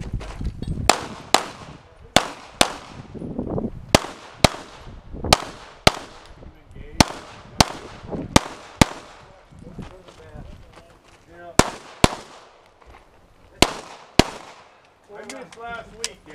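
Gunshots fired through a practical shooting stage ring out as a long irregular string of sharp, loud cracks, some in quick pairs, with people talking faintly between them.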